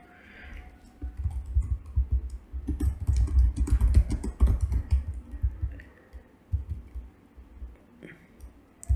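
Rapid clacking on a computer keyboard as a calculation is typed in Tableau, a busy burst of keystrokes in the middle tapering to scattered taps, close and fairly loud.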